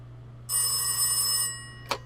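An old telephone rings in the video game This Is The Police, a single steady bright electronic ring lasting about a second over a low constant hum, followed by a brief clack as the receiver is picked up.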